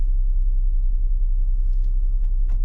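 A 2018 Ford Explorer Sport 4X4 engine idles with a steady, deep rumble while shifted into reverse, heard close and continuous with a few faint clicks near the end.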